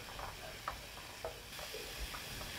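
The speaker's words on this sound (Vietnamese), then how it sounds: "em cho hết tỏi ớt vào trong cái chảo nè để em xào thơm lên à, xào không dầu nha" Garlic and chili stir-fried in a dry pan without oil for a fermented shrimp dipping sauce, a steady soft sizzle with a few light scraping ticks of a utensil against the pan.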